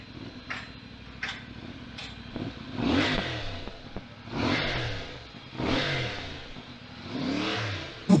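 A CF Moto 450MT parallel-twin motorcycle engine revs up four times in rising, swelling pulls over a steady idle, each burst dropping back before the next, with a few faint ticks early on and no talk.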